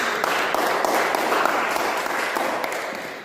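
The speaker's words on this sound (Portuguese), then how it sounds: "Vamos aplaudir essa garota porque ela prestou atenção no que eu falei." A talk audience bursts into applause, a dense, even roar of clapping hands that holds steady and then begins to fade slightly toward the end, with no voices over it.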